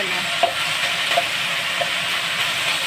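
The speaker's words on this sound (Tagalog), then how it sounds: "Ayan, barbecue sa kawali." Barbecue meat fries in a pan, a steady bright sizzle running throughout with a few soft stirring clicks and scrapes, close and continuous, with no voices.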